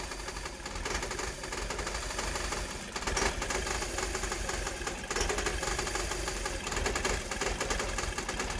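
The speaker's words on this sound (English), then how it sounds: "So number 4 is getting a little bit of a misfire." Audi/VW 2.0L four-cylinder engine idling with a misfire, a steady close mechanical clatter with uneven ticking running throughout, alone without talk.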